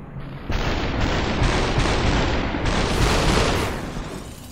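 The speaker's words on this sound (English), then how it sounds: "You got the pistols, you got the shotguns, you got the machine guns." Dense, rapid gunfire from pistols, shotguns and machine guns in the video game Superhot, loud overlapping bursts and booms crowding together for several seconds before easing off.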